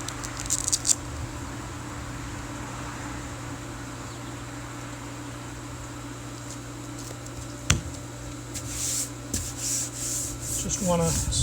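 Hand sanding a lab bench top with 220 grit sandpaper before repainting, a steady close rubbing rasp that continues throughout, with a sharp knock partway and faint clatter near the end.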